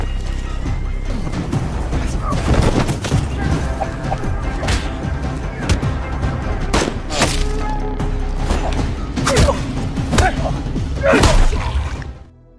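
Gunfire in an action film shootout, with scattered loud impacts and shots over a busy, dense soundtrack of thuds and crashes lasting throughout.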